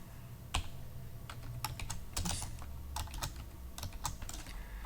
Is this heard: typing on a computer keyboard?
yes